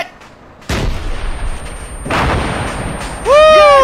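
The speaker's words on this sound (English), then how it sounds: "I'm switching to rocket, get down." Rocket launcher in ARMA III fires with a loud sharp blast, followed about a second and a half later by a heavy booming explosion that rolls on, with a rising whistle or ringing tone near the end.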